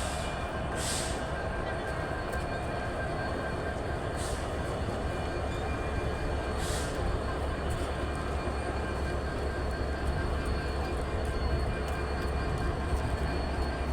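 A Khulna-bound train rumbles steadily at the busy Jessore railway station, a continuous low roar of carriages rolling by with a few faint brief high squeals or hisses on top.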